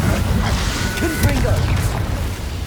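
Incendio fire spell cast in Hogwarts Legacy, a loud rumbling whoosh and burst of flame with crackling mechanical noise, heard close under game voices talking.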